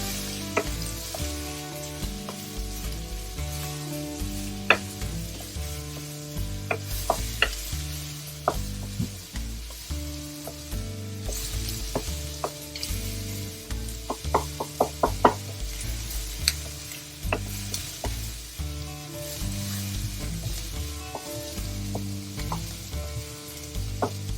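Onion sautés in a pan with a continuous frying sizzle, punctuated by repeated spoon scrapes and clinks against the pan, close and fairly loud, with no talk.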